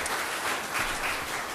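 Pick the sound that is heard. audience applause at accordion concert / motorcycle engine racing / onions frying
audience applause at accordion concert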